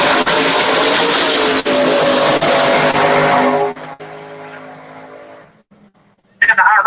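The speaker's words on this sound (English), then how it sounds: "the hot rod will finish left-hand side with nice, clean, straight run" A hot rod drag car makes a loud, steady engine roar through its straight run, then fades off into the distance, with a brief sharp burst near the end.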